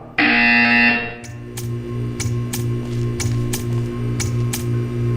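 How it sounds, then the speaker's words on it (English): A loud, steady electronic buzzer from the video game Portal 2 sounds alone for about a second, then cuts off, leaving a low mechanical hum with a series of sharp ticks and clicks. "You will hear a buzzer."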